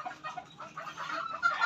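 A broodstag rooster clucks softly in a backyard poultry setting, a short series of low, close clucks and chuckling notes, faint and alone with no talk.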